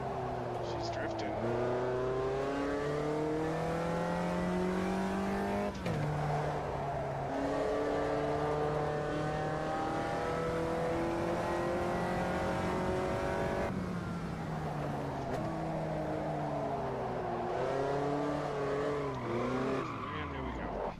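Race car engine in a racing video game revs loudly and continuously, pitch climbing through gear changes and dropping under hard braking into a drift, with tire noise, filling the whole stretch without pause.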